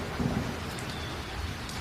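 Heavy rain pours down steadily in a cartoon story while low thunder rumbles underneath, a dense hissing wash with no voices.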